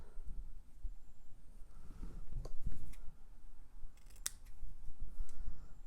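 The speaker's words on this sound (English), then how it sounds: "And then I'm just going to trim these ends." Scissors trim the paper ends of a handmade Christmas tag or card, several crisp snips and blade clicks close by over a quiet room.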